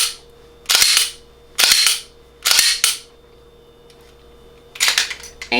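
Gun trigger dry-fired rapidly, giving four tight bursts of sharp, dry clicking at close range with short quiet gaps between them and no talking.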